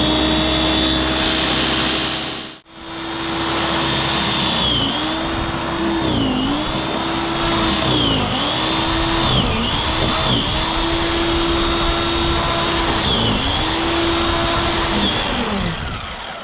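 An electric snow blower starts up and runs through snow. Its loud, steady motor whine drops briefly near the start, then its pitch repeatedly dips and recovers as the machine bites into the snow.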